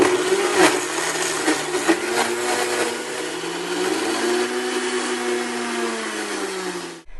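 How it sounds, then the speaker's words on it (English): A blender purees a thick strawberry avocado smoothie with ice, its motor roaring loudly and continuously, pitch wavering as the ice breaks up with a few rattling knocks early on, then cutting off abruptly at the end. "I like to wear these to block out the noise of the blender"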